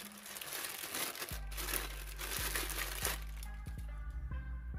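Packaging of SKAR car audio speakers crinkles and rustles close up as it is unwrapped, with a few sharp crackles and a low steady hum underneath from the midpoint onward.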